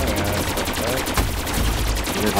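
Rapid automatic gunfire in Call of Duty zombies on the Gorod Krovi map, sustained dense bursts throughout with a sharp louder shot near the middle and faint voices underneath.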